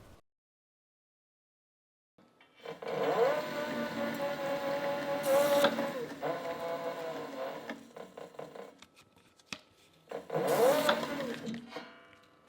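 An NP4 leather skiver runs through a strip of leather, a steady motorized whirring and buzzing that starts after a brief silence, holds for several seconds, pauses, then resumes in a short second burst, close and fairly loud with no talk.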